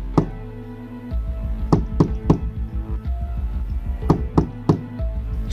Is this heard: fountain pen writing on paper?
no